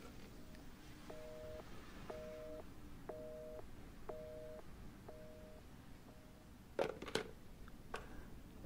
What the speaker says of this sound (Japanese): 電話出ないよね。